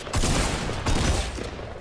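A quick burst of rapid gunfire rattles out in a Fortnite battle royale match, two dense volleys close together with no pause between shots.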